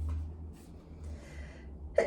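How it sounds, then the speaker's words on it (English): One person sneezes once near the end after a short quiet stretch of breathing, a sudden sharp burst that stands out close and loud, with no speech. "I'm going to sneeze, I think"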